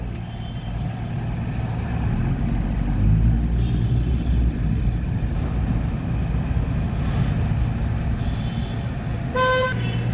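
Traffic jammed outside Metro Shopping Mall: a constant low rumble of idling cars and engines close by, with a short car horn toot near the end.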